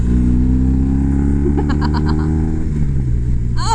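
Motorcycle fitted with a Jekyll and Hyde exhaust rumbles steadily while riding, a loud, close, low engine drone with a brief rise in revs midway.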